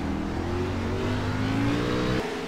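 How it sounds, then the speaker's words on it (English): An onboard race car in the iRacing sim at Sonoma downshifts, its engine note climbing steadily and then dropping sharply near the end, loud and close with no talk. "On board with Branch, you can hear the downshifting."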